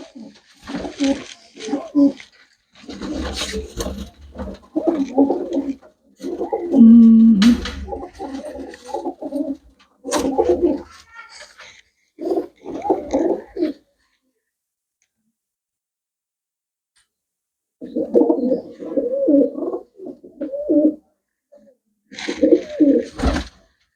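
Pigeons cooing at a pigeon seller's stall, with soft repeated coos and light clicks in short bursts, broken by gaps of silence, and voices talking at times.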